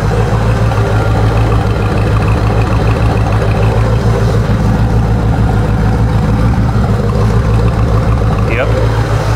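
An LT4/LT1 V8 car engine idles steadily after a cold start, a smooth, loud, continuous low rumble held throughout at close range.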